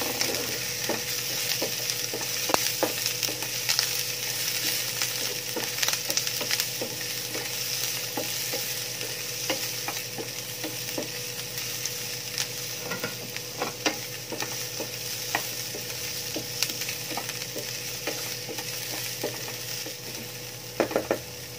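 Onions sautéing with golden brown garlic in a pan, a steady sizzle with frequent stirring clicks and scrapes, close and continuous for a long stretch without talk.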